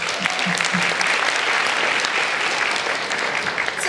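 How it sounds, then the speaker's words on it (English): Dense audience applause at a conference core session, loud and continuous throughout, with a few faint voices underneath at the start. "let's give another round of applause"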